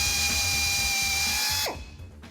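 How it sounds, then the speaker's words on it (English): A power drill whines steadily while boring through steel roll cage tubing on an '85 Toyota FJ60 buggy build, loud and close, then spins down abruptly near the end. "What are they doing drilling holes in a perfectly good roll cage everywhere where the tubing meets?"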